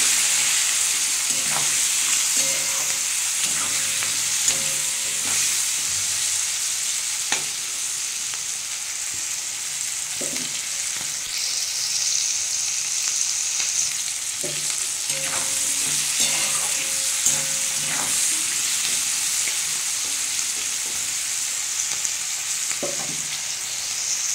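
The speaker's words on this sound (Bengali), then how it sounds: "এটা ভালো করে ভেজে নেব, লাল লাল করে" Diced potatoes, flat beans, capsicum and raw green tomato seasoned with turmeric and salt fry in a pan, a loud continuous sizzle broken by repeated scraping stirs, with no talking.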